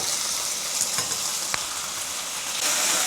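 Thin beef slices searing in a hot pan for a beef and cabbage stir fry, giving a steady, loud, hissing sizzle with a couple of sharp spits and crackles, with no voices over it.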